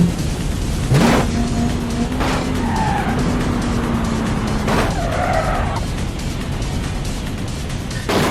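A car in the BeamNG driving game races at top speed, with a steady engine drone broken by loud tire skids and squeals at several points, no talking over it.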